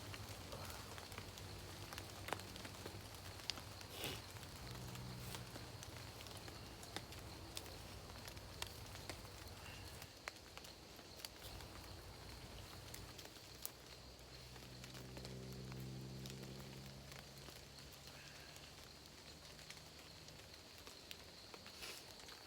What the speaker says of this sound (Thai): วันนี้บรรยากาศฝนปล่อยทั้งวันเลยครับ ฝนปล่อย